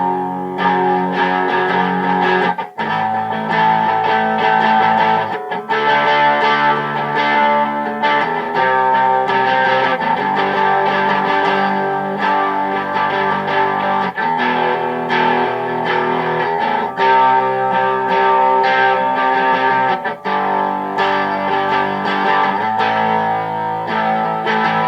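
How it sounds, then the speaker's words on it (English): A Les Paul electric guitar played through a Siren Pedals Magnar overdrive pedal into a Trainer YCV40 valve amp, with sustained crunchy overdriven chords and riffs that ring loud and steady, broken by brief pauses between phrases. "So now let's turn the pedal on and see how it sounds."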